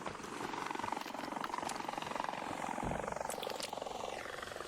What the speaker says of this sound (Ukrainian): Дрони когось розвалюють.